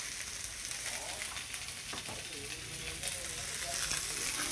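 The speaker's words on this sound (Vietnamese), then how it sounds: "Mình sẽ xào đậu que nha các bạn." Green beans stir-frying in a pan give a steady, moderately loud sizzle, with faint stirring scrapes and a voice murmuring in the background.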